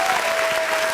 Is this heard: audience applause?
yes